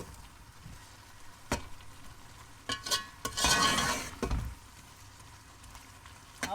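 Dry coriander and cumin stirred into turnip and meat curry in a pot, a soft scraping of the spoon with a faint sizzle, one louder gritty swirl of mixing in the middle.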